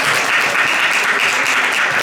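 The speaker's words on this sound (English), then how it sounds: "Can we have a big round of applause for the panelists today?" Loud, dense applause for panelists from a large audience at a fashion-week panel, steady clapping throughout with no pauses.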